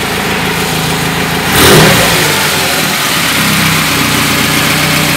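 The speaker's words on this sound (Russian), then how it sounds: "Можно чуть газануть." A carburetor car engine running on LPG idles loudly up close, then gets one quick blip of throttle that rises and falls back to a steady idle.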